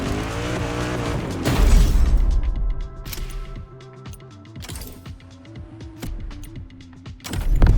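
Hypercars, a Bugatti and a Koenigsegg Jesko, racing through downtown streets in the video game The Crew Motorfest: loud, near engine roars rising and falling through gear changes, with tire squeal, a passing car and engine surges again near the end.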